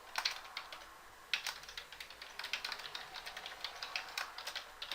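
Typing on a computer keyboard, a steady run of crisp, close key clicks with irregular rhythm and a few louder strikes, heard alone against a quiet background.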